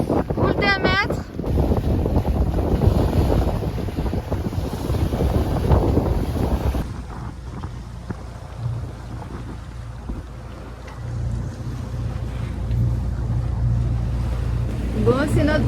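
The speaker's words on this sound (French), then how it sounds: "Ah ouais, vent de face, boule d'un mètre." Wind and sea noise rush against a sailboat making way into a headwind with one-metre swell in the Mediterranean, a steady broadband roar that turns quieter and more even after an abrupt change partway through, with voices talking early on.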